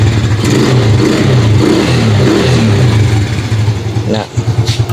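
A Kawasaki Fury 125 motorcycle under restoration, with a fault that makes it die when the lights are switched on, runs with a loud, steady, throbbing engine close by, easing off near the end, while someone talks over it.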